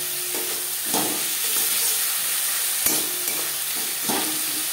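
Onion and tomato with ginger and green chili paste are stirred in a hot pan for a puti fish curry, with a continuous sizzle and repeated soft stirring strokes close by.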